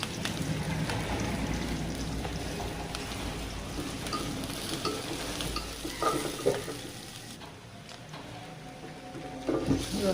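Chopped onion and green chili frying and being stirred in a pan for an egg and pointed gourd curry with coconut milk, a steady close sizzle with scraping stirs and small pops throughout, no talking.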